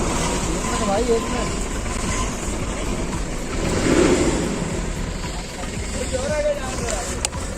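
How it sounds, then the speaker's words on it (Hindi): A car approaches on a mountain road, a low engine rumble that swells gradually to a peak and then fades, under steady wind noise and background chatter. "गाड़ी आ रही है"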